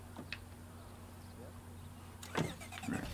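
A car engine starts in the video game State of Decay, a low, quiet mechanical turnover under a steady hum, with a louder cranking burst near the end.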